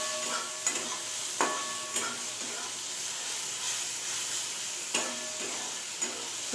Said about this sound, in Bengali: এই সবজিটাও আমার ভাজা হয়ে গেছে, তুলে নেব।